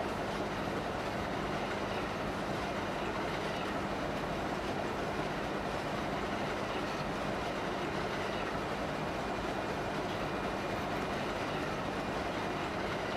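Train rolling steadily along rails in a railroad simulation game, a continuous dense rumble with faint wheel clatter, no voices over it.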